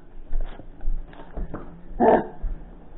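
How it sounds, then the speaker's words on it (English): A small rambunctious pet dog in a home kitchen, barking a few times in short bursts with one louder, close bark near the end, while a person talks intermittently. "That is just one annoying dog."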